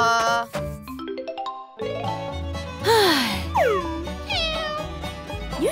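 A cartoon stray cat meows repeatedly in bright, rising and falling cries, mixed with chimes and springy sound effects, close and clear with no talking.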